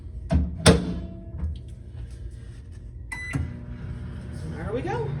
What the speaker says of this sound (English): And pop it in the microwave.